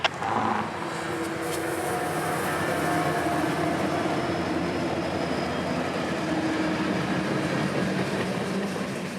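A CSX freight train led by AC44 locomotives, with an ST70 rebuild sandwiched between them, rolls away in a steady, loud rumble. The wheel and engine noise holds without a break from start to finish, and nobody speaks.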